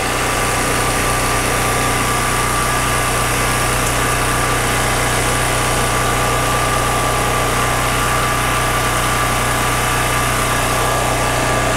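A portable generator engine idles close by, a loud, steady, unbroken hum and buzz that holds the same level with no pauses or voices.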